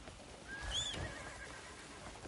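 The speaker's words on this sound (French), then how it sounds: "Cheval." A horse in Crimson Desert gives a single short, fairly faint whinny with a rising and falling pitch, heard alone against quiet ambient background.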